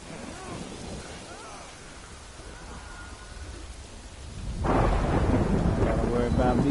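Steady rain patters throughout in the video game Death Stranding, then a deep rumble of thunder swells in and continues loud; a voice speaks briefly at the start.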